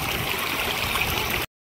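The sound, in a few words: irrigation water flowing through vegetable field channels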